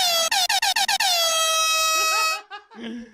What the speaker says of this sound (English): Hit the fucking air horn.